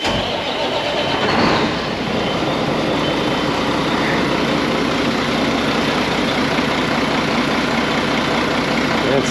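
An engine cranks and catches after a radiator and fan hose repair, then settles into a loud, steady idle that runs on alone.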